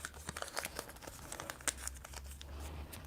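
Paper slips bearing names crinkle and crumple as they are folded up by hand for a prize draw, a close, quiet run of rustles and crisp crackles with no talking.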